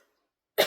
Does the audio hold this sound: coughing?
yes